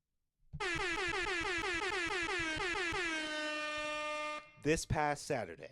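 A long, loud air horn blast on a podcast holds steady for several seconds, then cuts off into a few short honks.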